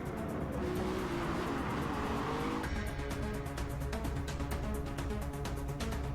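Supercars race in a Gran Turismo trailer, their engines roaring loudly and steadily with tire squeals and cars sweeping past over a continuous, dense mix of racing sound.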